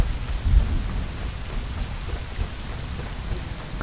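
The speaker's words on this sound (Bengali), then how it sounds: "কী আওয়াজ প্রচুর পরিমাণে বৃষ্টি হচ্ছে।" Heavy rain pours steadily in the Rider SiX video game, with low thunder rumbling beneath it and a stronger thunder swell near the start; a dense, continuous wash with no speech.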